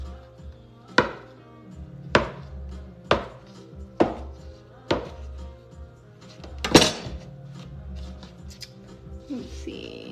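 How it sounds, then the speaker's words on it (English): A knife chops down through dough on a cutting board about six times at a steady pace, sharp close thuds, with a clatter and quieter handling sounds afterward. "let's cut this up"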